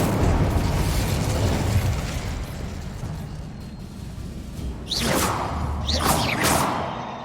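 An Incendio fire spell cast in Hogwarts Legacy, a loud rushing burst of flame that fades, then fresh whooshing swishes and pops near the end, with no talk.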